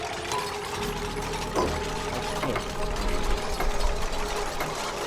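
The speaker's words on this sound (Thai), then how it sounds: "น้องน่ารักเวลาปั่นไฟโครา" A duplicant cranks a manual generator in Oxygen Not Included, producing a steady mechanical whirring rattle with repeated clicking over a busy game backdrop, moderately loud and continuous throughout.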